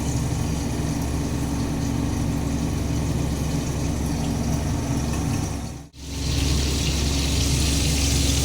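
Boal fish sizzles in hot oil under a covered pan, a loud, steady, hissing spatter that dips sharply for a moment before resuming at full strength.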